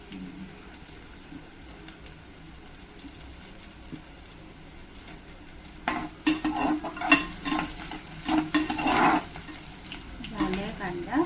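Chopped onion cooks in a pan for dalia, with soft sizzling and scraping stirs that grow louder and more frequent in the second half, clinking against the pan at close range.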